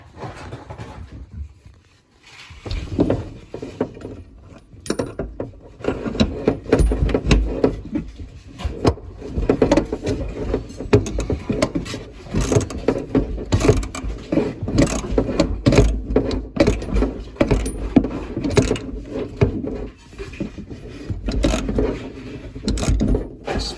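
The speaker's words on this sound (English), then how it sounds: "It's new tap in, I've just got to tighten it up." A plumber tightens the connector nut on a newly fitted tap with an 11mm fitting, giving close, irregular metallic clicks, scrapes and ratcheting knocks over a stretch of handling noise.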